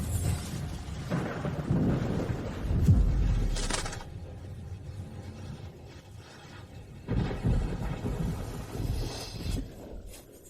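A thunderstorm with rain rumbles in low, rolling bursts of thunder that swell and fade over a steady wash of rainfall, fairly quiet and distant, with no voices.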